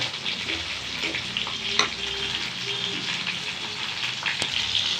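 Tomatoes sautéing in hot oil for brinjal biryani, a steady close sizzle and crackle with occasional stirring scrapes and clinks of a spoon against the pan.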